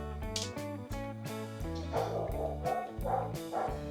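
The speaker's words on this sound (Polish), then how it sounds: "Pies się odzywa, bo pewnie przyjechała rodzinka." A dog barks repeatedly in the background during a home build of an off-grid battery energy storage unit, the barks coming in a quick, uneven series of fairly loud yelps.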